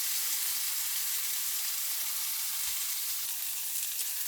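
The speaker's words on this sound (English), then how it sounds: "This is why I love cooking in a cast iron skillet, because meat gets nice and brown like that and caramelized" Pork loin sizzles and fries steadily in a cast iron skillet, a continuous close hiss with faint crackles and no talking.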